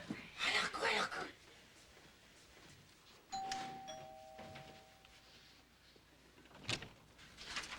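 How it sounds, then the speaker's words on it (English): A doorbell chimes in a 1980s sitcom scene: two clear ding-dong tones, one after the other, stand out after the muffled bustle of people moving around a room and before some door noises. "Hunt, you answer the door when the bell rings."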